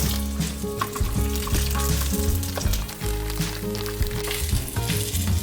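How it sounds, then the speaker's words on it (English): Food placed flat side down in a hot pan sizzles and fries continuously, a loud, close crackle that stays steady throughout with no talking. "You can hear it sizzling already."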